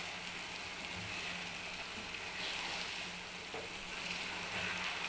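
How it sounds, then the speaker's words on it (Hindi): Khoya fries in a pan of carrot halwa, a soft continuous sizzle with faint stirring, steady and fairly quiet throughout, no voices. "खोया डाल के हम थोड़ा सा भूनते हैं।"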